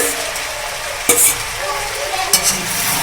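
Pasta mixed with homemade sauce in a wok, a continuous sizzle broken by two sharp spatula scrapes and clanks against the metal, close and fairly loud.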